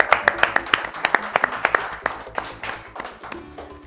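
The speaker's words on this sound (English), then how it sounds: "Another round of applause." A studio audience at a children's spelling-champion show gives a round of applause, with sharp, rhythmic claps fading into looser, softer clapping and some background voices.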